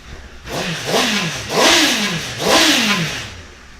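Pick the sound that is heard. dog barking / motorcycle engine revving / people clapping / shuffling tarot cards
motorcycle engine revving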